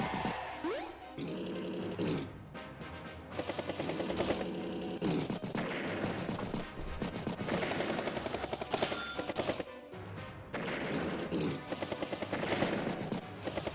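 A battlecopter attacks in the turn-based strategy game Advance Wars by Web, with rapid machine-gun bursts and clattering impacts repeating over a steady game soundtrack and no speech.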